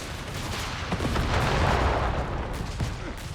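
Battle noise from Company of Heroes 3, with bazooka fire, an explosion and gunfire blending into a dense, continuous rumble and crackle that swells through the middle, with scattered sharp reports.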